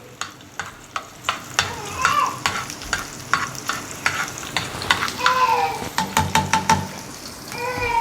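Food fries in a pan and is stirred with a utensil in an Alexandrian-style liver dish, giving steady sizzling under repeated sharp scraping clacks in an irregular rhythm, with people talking intermittently over it.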